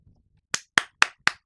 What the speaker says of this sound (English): give him the fucking applause